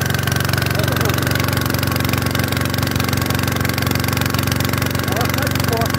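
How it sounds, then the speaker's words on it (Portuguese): A motor-driven pump draws water at a potato planting site, its engine droning steadily with a low, even throb throughout, loud and close, with no talking. "o tamanho do motor que tá puxando a água"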